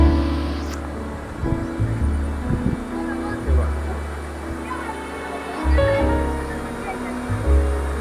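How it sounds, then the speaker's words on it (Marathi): Water from a hillside waterfall pours down near a small well-like pool, a steady broadband rush heard from a distance beneath a low rumbling drone, with occasional soft bumps and no talk. "तिथून वरून धबधबा पडतोय"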